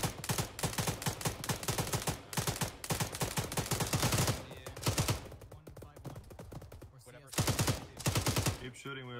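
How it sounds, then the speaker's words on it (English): Sustained automatic gunfire in the military shooter Arma 3, rapid bursts of shots repeating across the whole span with short pauses between volleys, loud and close. "Keep shooting, we have plenty of ammo."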